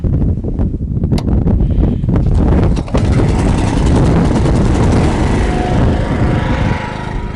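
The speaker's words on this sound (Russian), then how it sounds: "запускаем за счет генератора" A generator runs steadily and loud at close range to power a deep well pump on a sheep farm, with a continuous engine drone and brief wind buffeting over the microphone.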